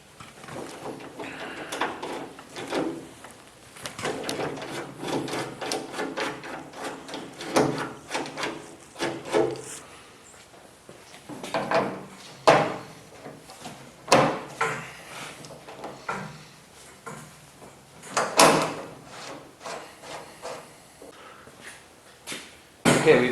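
Nut certs being installed by hand into a painted door panel for a 1947 Ford pickup, giving repeated close knocks, clicks and metallic taps in irregular bursts with short pauses, fairly quiet throughout.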